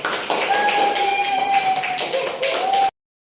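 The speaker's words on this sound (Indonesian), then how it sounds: "Oke, tepuk tangan dulu." A classroom group claps hands together, a dense run of quick, close taps lasting a few seconds before cutting off, with a steady tone and faint voices underneath.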